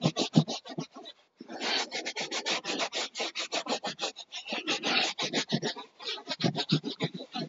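A brush scrubs the dirty carpet of a Kangoo car interior in fast, rhythmic rasping strokes, close and loud, with a brief pause early on.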